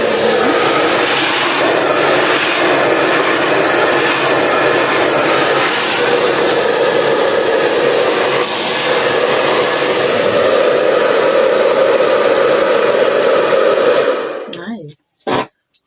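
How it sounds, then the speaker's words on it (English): A handheld blow dryer runs continuously on heat over a wig, a loud steady whooshing roar that holds for most of the stretch before cutting off near the end. "Oh, like I'm using my blow dryer"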